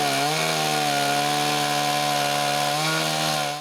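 A professional chainsaw mounted on a wooden chainsaw mill cuts through wood with a loud, steady, high-pitched buzz that holds even throughout, close by and with no talk.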